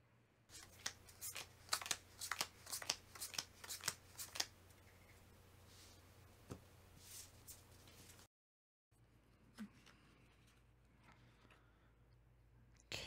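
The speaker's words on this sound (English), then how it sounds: "We're going to shuffle up and go again." Board game cards are shuffled up close in a quiet room, a run of quick crisp riffling bursts followed by softer handling and squaring of the deck.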